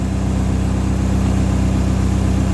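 A Komatsu SAA4D102E-2 diesel engine in a D31PX-21 dozer runs at low idle, a close, loud, steady low-pitched chugging drone with an even pulsing rhythm and no talking.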